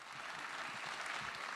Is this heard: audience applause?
yes